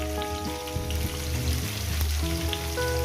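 Beans and eggplant fry steadily in a pan, a close, continuous sizzle and crackle with no voices over it.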